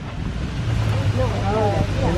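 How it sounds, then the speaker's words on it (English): Thunder Falls, a waterfall at Dogwood Canyon near Branson, Missouri, gives a steady broadband rush heard throughout, with people talking over it. "Now this is probably the most photographed waterfall in the whole park."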